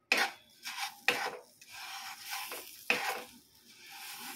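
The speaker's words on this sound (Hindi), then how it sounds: "इसे अच्छी तरह से सूजी के साथ मिक्स कर लेना है" Homemade mawa is stirred into roasted semolina in a kadhai, with a spoon scraping and rasping against the pan in a few sharp strokes followed by softer rubbing, close and clear without talk.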